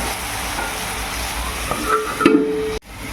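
Potatoes sizzle and crackle in a hot pan while a utensil stirs and scrapes through them, close and steady, ending with a brief clatter.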